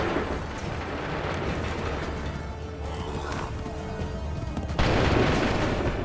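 Cannon or musket volleys in Assassin's Creed III, with a dense rumbling battle din running throughout and a louder burst of firing about three-quarters of the way in.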